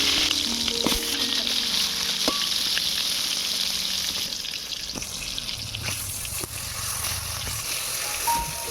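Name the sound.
frying pointed gourd (potol) in mustard oil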